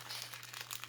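A decoupage paper napkin for a wine bottle crinkles softly as it is folded, one brief, faint rustle up close.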